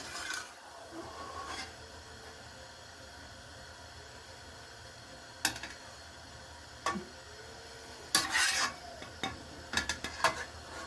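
A pot of boiling kolk, a traditional Kurdish dish, is stirred as it cooks. A low bubbling hiss runs underneath, broken by occasional sharp spoon scrapes and knocks that cluster near the end.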